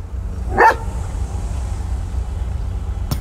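A dog in a video game roleplay gives one short, sharp bark over a low, steady rumble, followed by a faint click near the end.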